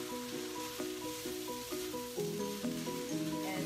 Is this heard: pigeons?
no